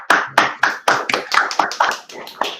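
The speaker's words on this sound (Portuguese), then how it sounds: "uma salva de palmas para vocês" A small group applauding at the close of an undergraduate thesis defense, a handful of distinct, sharp, close claps in an uneven rhythm rather than a dense wash.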